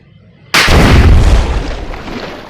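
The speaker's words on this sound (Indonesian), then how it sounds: "Timbul ledakan tadi akibat dari endoterm yang diberikan pertama, kemudian menghasilkan eksoterm yang besar" A hydrogen and oxygen gas mixture ignites in a sudden loud explosive boom, a single sharp blast that rolls off into a long decaying rumble.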